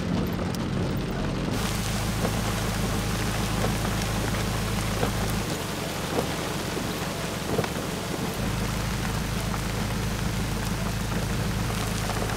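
Steady heavy rain pours during a safari, a dense continuous hiss with scattered drop impacts, close and loud throughout, with low rumbling underneath and no voices.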